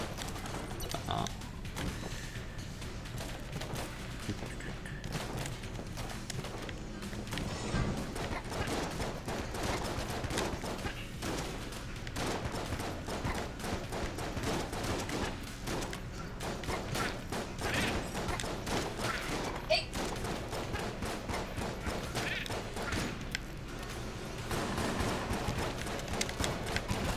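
Video game gunfire rattles in dense, rapid bursts and sustained volleys throughout, with occasional thuds and crashes, while a player talks over the constant shooting.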